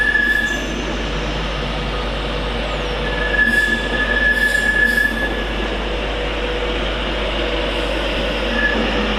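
Class 66 locomotive 66755 and its train passing through Stafford station on the West Coast Main Line: a steady rolling wheel rumble with intermittent high-pitched squeals, fairly close and continuous.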